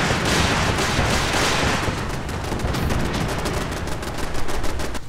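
Automated turret emplacements in Fallout 4 firing without pause, a dense, loud rattle of rapid gunfire that keeps going the whole time with no voices.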